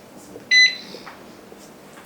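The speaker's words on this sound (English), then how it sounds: "Now the pressure canner is beeping." A pressure canner, done with a batch of jam made with pectin, gives a single clear electronic beep of about a fifth of a second, close by against a quiet kitchen background.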